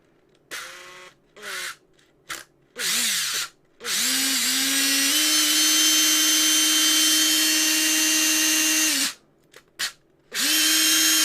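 Makita DTD134 impact driver, an old unit that has sat unused, runs in several short bursts, then holds one long steady whine for about five seconds before stopping and revving again in brief pulses.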